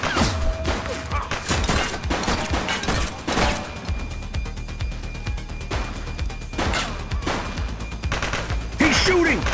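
A police suspect shoots in the video game The Precinct: repeated loud gunshots in bursts, with thuds and crashes and some game voices between the shots.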